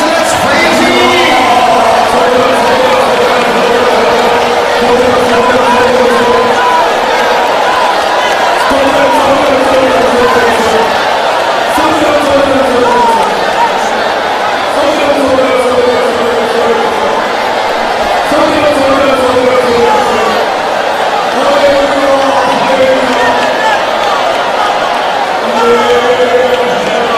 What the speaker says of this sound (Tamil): With the loud voice, let's praise Him.